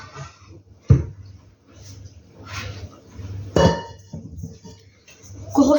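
A large mixing bowl is pulled from a low cupboard in a home kitchen while making a blackberry tart, giving a few sharp clunks and clinks against the cupboard and worktop, close and loud, separated by quieter shuffling.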